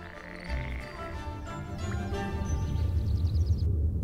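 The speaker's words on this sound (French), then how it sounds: "les grenouilles de Mathilde à Chaumont-Gistoux qui vont et viennent au rythme de la journée" Frogs croak continuously in a garden pond in Chaumont-Gistoux, a dense chorus of throaty calls overlapping near and far, with a few higher chirps on top and no talking.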